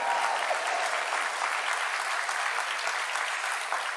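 Steady applause from an audience at a formal Brazilian government event, a dense, even wash of clapping that continues without a break and sounds somewhat distant.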